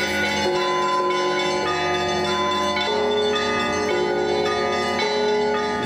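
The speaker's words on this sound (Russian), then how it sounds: "Сопровождалась церемония громким и мелодичным церковным колокольным звоном." Orthodox church bells ring out loudly and steadily at an Easter ceremony, several tones overlapping in a continuous, resonant peal with no voices.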